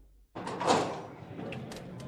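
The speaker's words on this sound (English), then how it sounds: "the door of the tavern opens" A tavern door swings open with a soft thud and creak, followed by a steady rumble of background noise and faint rattles.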